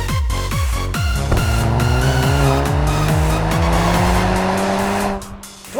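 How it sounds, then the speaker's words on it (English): A 2022 Volkswagen GTI with a manual transmission accelerates hard, its engine note climbing through several quick rising sweeps with audible shift breaks, loud and close from inside the car, and the revs settling near the end. "'22 Volkswagen GTI. Performance without launch control, manual transmission."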